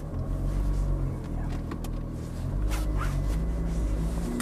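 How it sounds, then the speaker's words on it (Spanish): A Ferrari F430 engine rumbling low and steady as it begins to accelerate gently, a deep continuous drone close by with slight swells and small clicks, no voices. "vamos a jalar la palanca una vez y empezamos a acelerar poco a poco"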